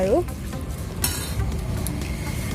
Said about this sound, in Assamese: নিমখখিনি দিয়াৰ পাছত এনেদৰে ভালকৈ লৰাই দিম